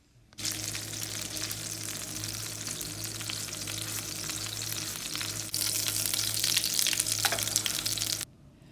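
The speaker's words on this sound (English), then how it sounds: "That looks like a good little sear on that side." Steady, loud sizzling of Salisbury steak patties searing in a hot frying pan, continuous throughout with a brief shift in intensity partway.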